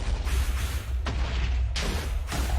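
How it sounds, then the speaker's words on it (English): A Minecraft wither explodes in a few rough, booming bursts over a steady low rumble, loud and close, with no talking. "the explosion works"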